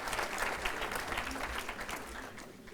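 Audience at a European affairs conference opening applauds government ministers, a steady wash of many hands clapping at moderate volume, with no talk over it.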